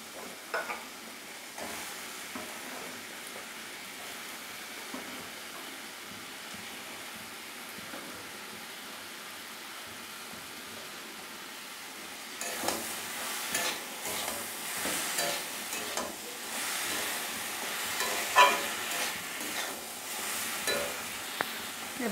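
Boiled kochur loti (taro stolons) stirred into a pan of fried spice paste, a steady soft scraping and sizzle that grows louder and busier about halfway through, with no one talking.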